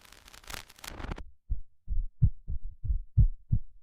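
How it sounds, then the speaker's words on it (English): A space signal sound effect throbs like a heartbeat: after a burst of harsh static fades out, about nine deep, evenly spaced thumps pulse alone in a regular rhythm. "Experts said it resembled a heartbeat, one that didn't belong to any machine."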